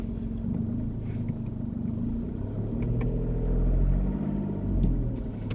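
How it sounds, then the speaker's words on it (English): A car engine rumbles steadily at close range, swelling slightly in the middle, with a few faint clicks and rattles. "you can hear the engine, can't you?"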